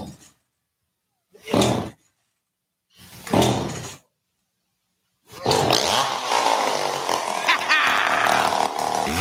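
A chainsaw in a radio advertisement for a chainsaw shop revs in two short, loud bursts separated by silence, then roars into a sustained, rough, snarling run.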